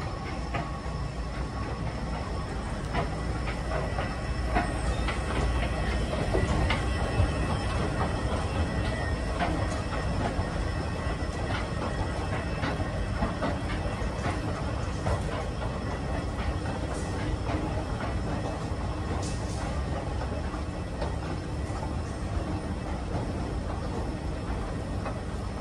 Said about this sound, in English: You can hear a dart train coming into the station.